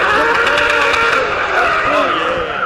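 Race car skidding with screeching tires at a time attack event, a loud continuous squeal with engine noise throughout, crowd and commentary murmur faintly underneath.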